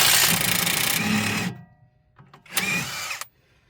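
Impact wrench with a 19 mm socket working on a stabilizer link bolt of a 2011 Opel Insignia: a loud, close, rapid hammering whir for about a second and a half, a short pause, then a second shorter burst.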